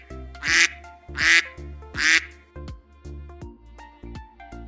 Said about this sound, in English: the sound of duck,